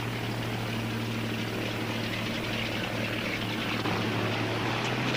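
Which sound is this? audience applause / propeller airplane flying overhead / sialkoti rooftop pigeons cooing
propeller airplane flying overhead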